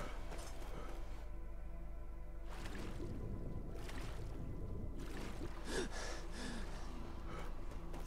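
Heavy, slow breathing of a character in Skyrim, with steady gasping inhales and exhales over a constant low rumble of ambient game sound, close and continuous throughout.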